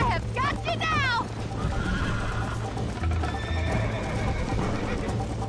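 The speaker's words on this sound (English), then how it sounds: "O cavalo tá bravo" A horse in Red Dead Redemption whinnies loudly, then hooves clip-clop under a low rumbling background, with a voice talking over it.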